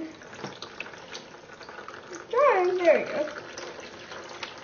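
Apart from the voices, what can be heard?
streams of water pouring and merging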